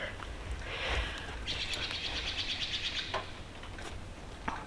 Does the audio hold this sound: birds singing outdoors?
yes